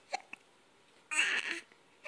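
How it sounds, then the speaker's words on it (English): A baby hiccups in a few short, sharp bursts, with a brief breathy vocal sound in the middle. The sounds are faint and close, in an otherwise quiet room. "Those hiccups make you mad."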